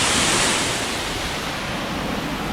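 Na Mueang waterfall on Koh Samui pours with a continuous loud broadband rush of falling water, steady and close with no voices.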